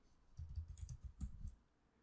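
Quiet, close typing on a computer keyboard, a short burst of soft key clicks lasting about a second with no talk.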